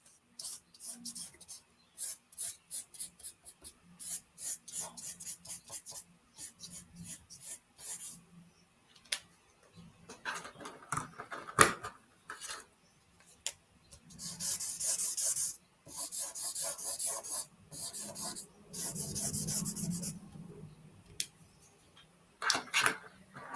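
Wax crayons rub and scratch across paper in bursts of close, rhythmic strokes. Short pauses separate the strokes, and some passages are harsher and more scraping than others. There is no speech.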